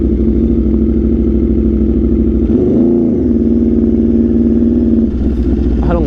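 Aprilia RSV4 motorcycle fitted with an SC-Project CRT exhaust, ridden on a short rainy ride, holding a loud steady engine drone close by, swelling in a brief rev near the middle before settling back, with no talking.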